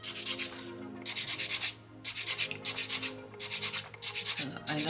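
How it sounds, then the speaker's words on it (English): A nail file rasps back and forth over a polygel nail tip in quick strokes, close and fairly quiet, with short pauses between bursts of filing. "File that until that's all even."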